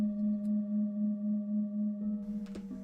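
A steady sustained tone used in sound healing, holding one pitch with gentle pulsing swells before wavering and fading near the end, with no speech.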